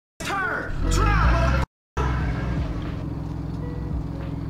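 Car driving in the horror video game Fears to Fathom: Ironbark Lookout, a steady low engine drone running nearly throughout with a brief dropout, while someone talks loudly over it.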